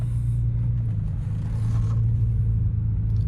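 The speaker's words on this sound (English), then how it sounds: "So setting off in the 335, the car drives like a normal 335." A BMW E90 335i with the N54 engine pulling away, giving a steady, low, rumbling engine drone that holds close and even throughout, with no voices.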